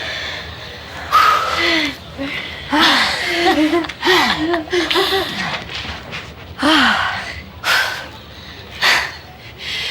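Heavy, ragged panting of someone out of breath after running: a steady run of loud, close gasping breaths with short sighing exhales, uneven in rhythm across the whole stretch, with no talk.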